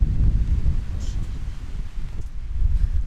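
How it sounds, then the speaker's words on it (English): Strong wind gusts buffet the microphone outdoors on the Isle of Skye during a storm, a loud, continuous low roar that rises and falls without a break. "That's how strong these gusts are."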